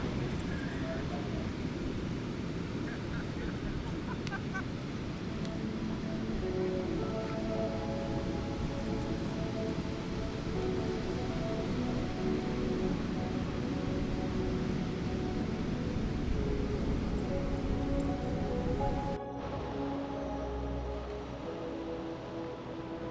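A steady wash of surf rolls in from nearby on a beach in Goa, constant and broad; voices can be heard talking faintly over it.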